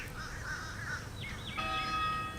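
Birds call outdoors in a quiet setting at St. Joseph Abbey, a few caws followed by short, bright chirping notes, fairly faint over a soft background hush.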